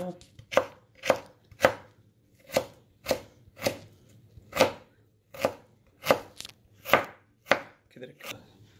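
A knife chops ingredients into small pieces for a lentil curry soup, about fifteen sharp, evenly spaced strikes on a cutting board, close and clear with no talk.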